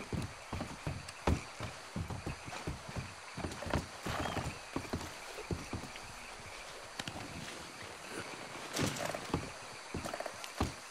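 Irregular hoof clops on hard ground from the video game Red Dead Redemption II, a horse walking at a steady unhurried pace, fairly close, with a faint ambient bed underneath and no talking.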